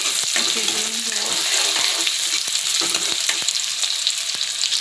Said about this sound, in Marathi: तेल तापले होते, कांदा टाकू.